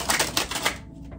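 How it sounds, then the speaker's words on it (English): Cards of the Divine Feather oracle deck being shuffled, a quick run of papery riffling flutters that stops abruptly, close and fairly soft, with no talk. "Interesting shuffle."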